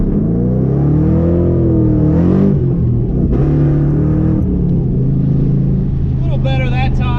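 A Mustang fitted with an MSD 2-step launch control revs hard and loudly up close, its engine note rising and holding, while a voice talks over it.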